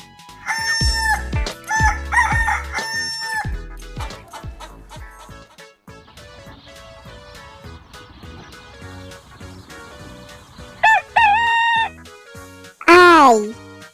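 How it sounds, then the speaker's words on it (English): A rooster crows a few times among clucking farmyard sounds, with one loud, wavering crow near the end. "H for hen."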